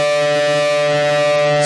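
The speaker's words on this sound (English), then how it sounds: "Turn the volume up and pull back on the bar at the same time. All right, there's a little elephant call." Natural harmonics on an electric guitar swell as the volume is raised and the whammy bar is pulled back, making a loud, sustained, horn-like elephant-call tone that holds steady for under two seconds.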